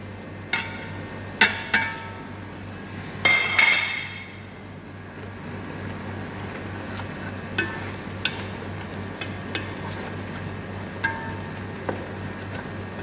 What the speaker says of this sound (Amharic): አሁን ይሄ ስል ይላል።